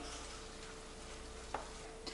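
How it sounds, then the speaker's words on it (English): Quiet steady bubbling and sizzle of a simmering pot of minestrone soup with spinach, with a couple of faint clinks of a spoon stirring. "So stir it into the soup while it's still boiling."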